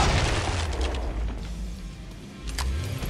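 A .50 caliber frag round explodes in Killing Floor 2 with a loud, deep boom that opens the stretch and rumbles away, followed by a fainter second burst near the end.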